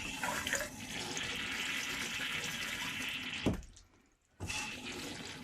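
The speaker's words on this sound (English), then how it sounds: "We're going to try flushing the toilet." An RV toilet flushes as water rushes into the bowl, a steady loud wash that cuts off abruptly near the end, leaving a brief near-silence before the water swells back in.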